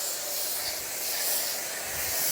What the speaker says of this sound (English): So I'll give one spray just to adjust it how I want it.